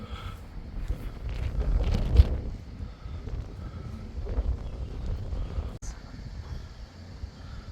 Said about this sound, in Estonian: Hull tuul tuli.